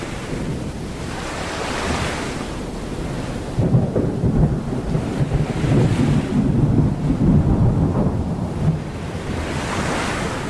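Thunder rolls over a stormy sea in the sailing video game Sail the Seas. A deep rumble swells midway over constant crashing surf and wind, with no voices.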